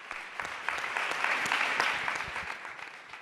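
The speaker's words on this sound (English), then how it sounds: "Big round of applause, please," Crowd at an award event applauding, sustained dense clapping that swells in the middle and tapers off, with a few sharp individual claps standing out, fairly loud and close.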